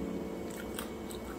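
A few crisp, crunchy bites of fried corned beef close up, quick sharp crackles over a low steady background.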